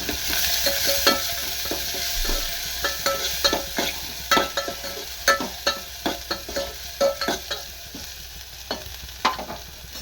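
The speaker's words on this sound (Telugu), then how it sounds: "పచ్చివాసన పోయే వరకు అయితే ఫ్రై చేస్తున్నాను చూడండి" A rice flour breakfast batter fries and sizzles in a pan under a steady hiss, with frequent sharp clinks and scrapes of a spoon stirring the mixture close up.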